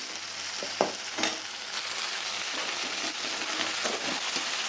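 Curry ingredients sauté in a pan for a Tamil-style kara kuzhambu with bitter gourd and okra, a dense continuous sizzle with a few sharp stirring clicks near the start, close and steady, with no voices.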